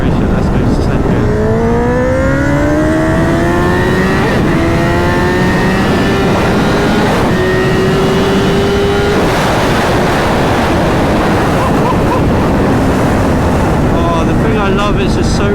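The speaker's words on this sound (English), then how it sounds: "I don't know how well the camera's picking up the noise of the bike." A 2011 Honda CBR1000RR Fireblade Hutchy edition motorcycle accelerates hard through the gears, its engine note climbing in pitch with each gear, heavily masked by loud, constant wind roar.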